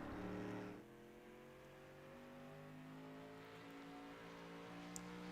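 A street stock race car at Stafford Speedway runs down the back straightaway, its engine a steady, droning roar heard from a distance that holds on without letting up.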